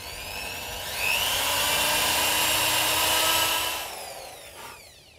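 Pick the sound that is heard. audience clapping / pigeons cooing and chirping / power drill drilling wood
power drill drilling wood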